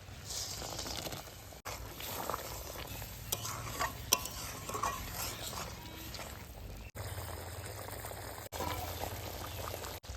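Fried paneer goes into boiling water in a pan for a dahi paneer curry, giving a steady close bubbling and simmering hiss with spoon stirring scrapes and brief louder splashes throughout.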